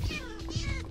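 A cat in Minecraft meows as it dies, a pair of short, whiny cries heard close over a steady game background.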